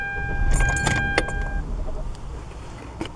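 A car key is turned in the ignition and switched off as a bunch of keys jangles close by, metallic rattles and clicks bunched at the start while a brief electronic chime cuts out, then faint scattered jingles settle into quiet.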